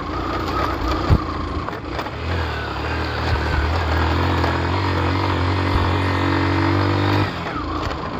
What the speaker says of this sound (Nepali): ओइ मेरो बाइकले तान्दैन है